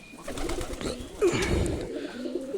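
Domestic pigeons cooing close by, a couple of low, throaty rolling coos over faint background noise, with no one talking.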